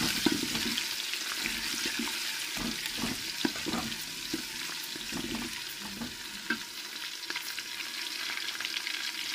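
Green garlic and green chili sizzling in a pan with ginger and garlic, a continuous loud frying crackle with repeated scraping stirs, no voices.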